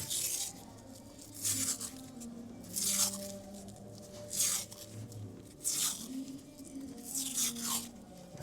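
Packing or duct tape torn and pressed down during a salvage telehandler repair, several separate ripping bursts spaced about a second apart, close and fairly quiet with a low hum underneath.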